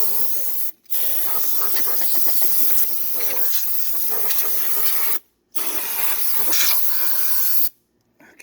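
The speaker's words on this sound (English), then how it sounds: "Where is the air blower? Oh, jeez. Air blower. Just blow up." Compressed air from a blower gun hisses loudly in three long bursts against a car air filter, separated by brief silences, close to the listener with no speech.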